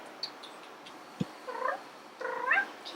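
A house cat lets out two drawn-out wavering meows, the second longer and louder, with a faint tap and quiet room noise between them.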